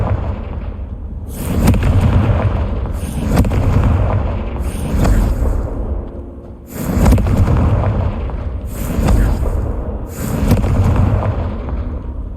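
Confringo spell blasts in Hogwarts Legacy, a series of loud, close booming explosions that hit roughly every one to two seconds, each with a sharp crack and a rumbling tail.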